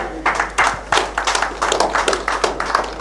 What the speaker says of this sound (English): Give a big round of applause for Dr. Mirza Niamat Beg sir.